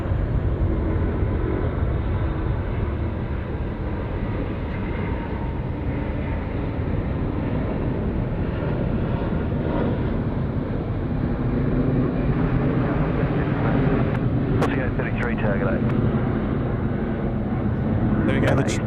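A China Eastern Airbus A350 jet departing Sydney Airport for Shanghai, its broad, steady engine roar heard from a distance and held throughout, with people talking over it.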